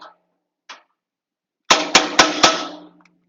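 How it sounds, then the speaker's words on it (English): Four sharp metallic taps from a flat blade screwdriver seat a caster on a Shopsmith Power Station stand, evenly spaced and close, after a couple of faint brief sounds. "So we'll just give this a tap with a flat blade screwdriver."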